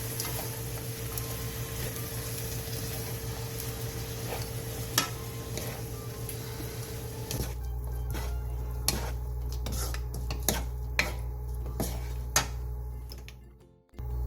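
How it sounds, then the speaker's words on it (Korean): Bean sprouts and chili powder stir-fried over medium heat in a pan, giving a steady close sizzle with scattered scraping clicks from the utensil; the texture thins after the midpoint and cuts off abruptly at the end. "콩나물 2줌과 고춧가루 1스푼 반을 넣고 밑이 타지 않게 뒤적여가며 중불에서 약 3분 정도 볶아주세요."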